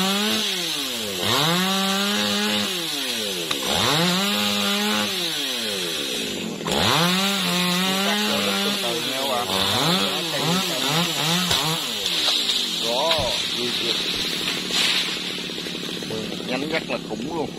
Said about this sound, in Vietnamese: thấy cưa nó quá bén luôn các bạn ơi.